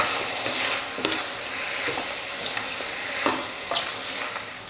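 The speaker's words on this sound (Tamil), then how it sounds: "இப்போ வெங்காயம் தக்காளி நல்லா வதங்கணும். அந்த அளவுக்கு ஒரு 4-5 நிமிஷம் நல்லா வதக்கிக்கலாம்." Onion and tomato sautéing in a pan, a steady bright sizzle with occasional scrapes and clinks of a spoon stirring, close and without talk.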